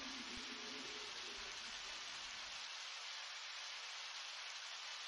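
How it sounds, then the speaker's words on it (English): Rain ambience in the video game Undertale: a faint, even hiss of steady rainfall that carries on unbroken and alone, without any voices. "Walking in the rain with my new best friend."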